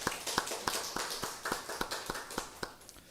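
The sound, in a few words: congregation clapping in thanks for the choir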